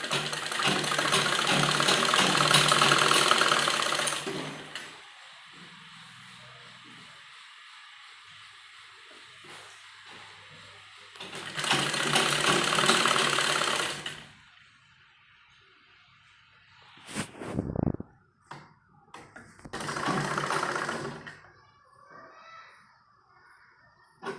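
A sewing machine runs in three bursts while stitching the folded-in hem of a kurti, each stretch of steady whirring a few seconds long, close and fairly loud, with quieter gaps and small handling clicks between.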